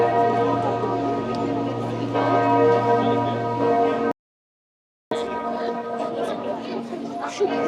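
Church bells ring out from Strasbourg Cathedral, a steady sustained peal with rich overlapping tones filling the air, interrupted by a brief gap of silence before resuming amid outdoor crowd chatter.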